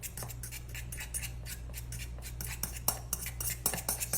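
Metal fork mashing boiled egg yolks in a dish for deviled eggs, giving quick, irregular scraping clinks against the bowl at close range, soft and continuous with a low background hum and no talking.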